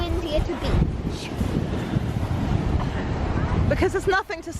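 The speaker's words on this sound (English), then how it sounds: "Why is it always really windy at a beach?" Strong wind buffets the microphone at a beach, a loud, rumbling low roar that goes on for several seconds, with a voice talking toward the end.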